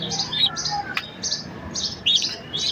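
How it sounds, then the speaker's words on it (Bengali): Racing pigeon chicks chirp close by in short, high, squeaky bursts that repeat through the moment over a soft background hum, with no talking. "এই রেসার কবুতরের বাচ্চা।"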